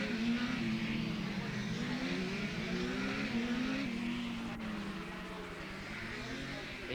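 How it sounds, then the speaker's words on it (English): Production racing motorcycles at the 1985 Hamilton road race in Northern Ireland coming over a hill, a steady blended engine drone with a wavering pitch that holds throughout and fades slightly toward the end, heard from a distance. "Looking for Williams now as he comes over the hill"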